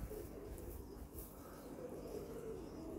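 Pigeons from a racing loft coo in soft, low, overlapping calls at close range, steady throughout with no talk.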